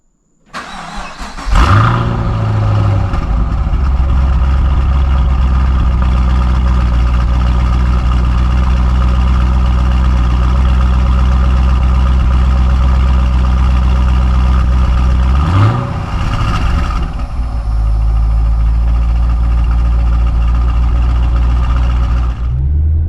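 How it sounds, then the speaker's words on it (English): A 2017 Chevrolet SS with six-speed manual and stock exhaust cranks and fires up, then settles into a loud, deep idle close by, with a brief blip or second start partway through before idling on. "see the difference in the exhaust sound and the way it sounds in the car"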